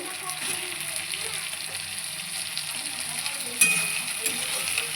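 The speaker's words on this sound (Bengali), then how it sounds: "দিয়ে টমেটোটা ভালো করে এখন ভেজে নেবো" Tomatoes sizzling in a pan, a steady close frying hiss running throughout with a brief sharp clink near the end as the pan or utensil is knocked.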